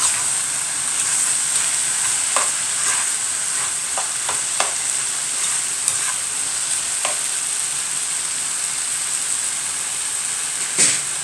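Chicken and mixed vegetables stirred in a frying pan: a loud, continuous close sizzle with a hissing edge, broken by irregular spatula scrapes and taps, no voices.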